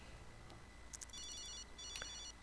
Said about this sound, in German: dann kannst du mal da unten ans Telefon gehen, dass sich hier tot bimmelt